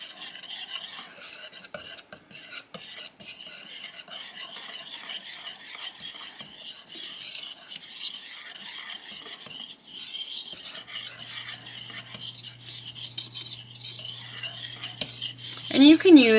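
A utensil mixes cocoa into melted butter in a pot or bowl for brownies, giving soft repeated scraping and stirring strokes near the mic, quiet, with a brief clatter at the end.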